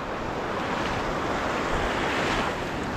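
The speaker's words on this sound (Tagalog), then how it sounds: "Grabe ang alon dito." Heavy surf at high tide crashes and roars continuously during heavy rain, mixed with gusting wind against the microphone, with no voices.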